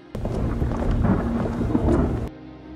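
Rain and rolling thunder in a film scene as rainwater floods into a cell, a steady loud rumble with downpour that cuts off abruptly near the end.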